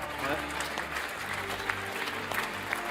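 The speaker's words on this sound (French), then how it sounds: "Je voudrais qu'on applaudisse quand même Paul" Studio audience applause on the French TV quiz show Les 12 Coups de Midi, a steady dense clapping wash lasting the whole moment, with a voice talking over it.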